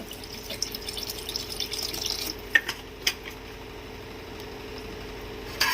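Water splashes and bubbles faintly into a simmering prawn and egg masala curry, with a few soft clinks and drips over a low kitchen hum.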